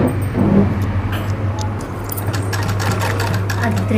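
An electric sewing machine runs steadily while stitching piping onto cloth in a tailoring class, giving a continuous loud mechanical hum with rapid ticking needle strokes, close by.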